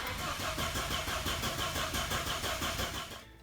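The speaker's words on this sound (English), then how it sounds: "Start the car." A car engine cranks with a fast, even starter chug for about three seconds, loud and close, before cutting off, while a fuel injection pump tester is rigged to the fuel line.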